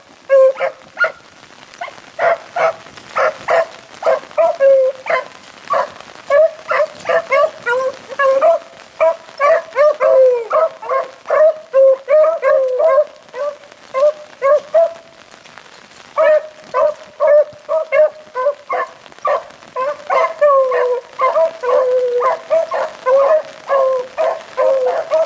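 Pack of beagles baying on a hunt, a long run of loud rapid yelping bays from several dogs, nearly continuous with short pauses, no voices.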